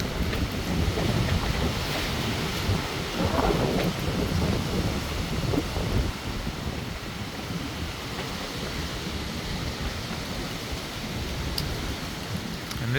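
Severe evening thunderstorm in Nebraska in July, with steady heavy rain and wind roaring throughout and low rumbling thunder underneath, loudest in the first half and easing slightly later.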